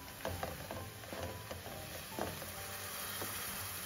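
Ground chili, cumin, coriander and turmeric being stirred in oil in a pan for a rohu fish head and cucumber curry, with a steady low sizzle and repeated soft scraping strokes of a spoon, close up.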